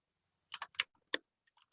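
A short burst of computer keyboard typing entering a command line instruction: five or six crisp, close key clicks in quick irregular succession, then a few fainter taps, in an otherwise quiet room.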